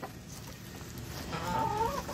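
Hens cluck softly and continuously in a backyard flock, a busy low murmur of fowl that grows a little louder and closer toward the end.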